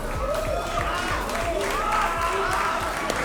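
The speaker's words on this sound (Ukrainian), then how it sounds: "Оплески нашому гостю!" An arena crowd applauds and cheers as a fighter is introduced before a bout, a continuous roar of clapping and voices layered over a thumping music beat.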